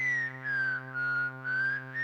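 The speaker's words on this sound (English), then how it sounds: "We have some whistles here." A VCV Rack synthesizer filter patch gives off sustained whistling tones, a steady pitched whistle that glides gently and swells in a few rhythmic pulses, loud and close with no voices.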